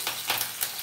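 Curry leaves hit hot oil for a tempering and give a short burst of crackling sizzle with a few distinct pops, lasting under a second.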